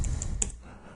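Quick computer keyboard typing, a few light close clicks in a short burst that trail off into quiet.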